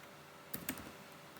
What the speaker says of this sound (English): Now we'll type set names